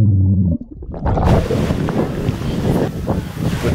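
Rough wind buffeting and rushing water from waves during a thunderstorm, loud and close, following a brief low tonal sound at the start.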